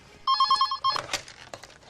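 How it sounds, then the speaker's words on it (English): A telephone bell rings in one loud, close rapid burst, then a clatter of the receiver being handled. "Telephone. Oh, the phone."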